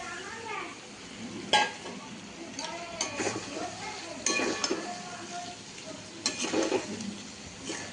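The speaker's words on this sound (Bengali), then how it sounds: "এটা প্রায় তেল ছেড়ে গেছে, ভাজা হয়েছে।" Pointed gourds fry in oil as a soft sizzle runs beneath a person talking, with a few sharp utensil clinks and scrapes against the pan.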